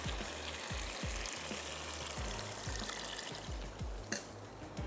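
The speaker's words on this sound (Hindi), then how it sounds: "और अब मैं इसमें ऐड कर देती हूँ ये स्टॉक, ताकि ये थोड़ा सा पकता रहे" Stock goes into a cooking pot with spices, a wet splashing pour over a low bubbling sizzle. It sounds steady and close, with no talking.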